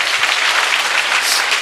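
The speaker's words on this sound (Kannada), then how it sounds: "ಒಂದ್ಸಲ ಜೋರಾಗಿ ಚಪ್ಪಾಳೆ ಹೊಡೀರಿ ಅವರಿಗೆ." Loud, sustained applause from a college audience filling the hall, steady dense clapping with no break throughout.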